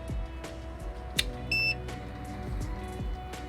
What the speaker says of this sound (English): When you plug it in, you will hear a single beep.